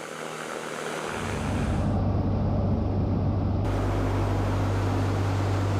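Military propeller aircraft flying near Japan's airspace: a loud, sustained engine drone with a steady low hum that swells in the first second and then holds, heard alone without talk.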